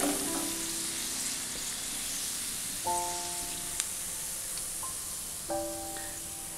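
Pieces of Indo-Chinese crispy chicken deep-fry in oil, giving a loud, even, continuous sizzle, broken by a few short tonal kitchen beeps and a sharp click, with no talk.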